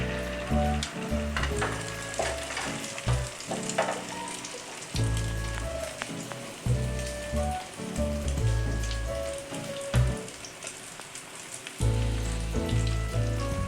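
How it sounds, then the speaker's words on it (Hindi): Leftover egg fries in small portions in a pan with a steady, close sizzle, scattered crackles and occasional stirring clinks. "अब जो अंडा बचा है इसे भी हम ज़ाया नहीं करेंगे, इसे हम थोड़ा थोड़ा करके फ्राई कर लेंगे छोटे छोटे"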